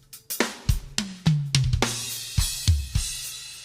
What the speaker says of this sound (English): The drummer himself actually sent some triggers. And his triggers sound like this